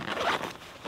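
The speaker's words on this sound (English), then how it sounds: "The zipper is very smooth." Smooth zipper pull on the lid pocket of a Decathlon Forclaz MT900 Symbian 70L hiking backpack, one steady close-up rasp lasting under a second with no talking.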